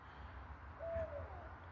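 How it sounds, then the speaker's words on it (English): A single faint owl hoot sounds at night near a creek at a camping spot, one soft drawn-out call over a low, quiet background hum. "it's going berserk, an owl."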